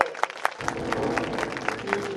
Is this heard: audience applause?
yes